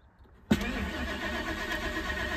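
A Navigator-swapped Ford F-150 truck engine catches with a sharp start, then settles into a steady, rough-sounding idle close to the microphone.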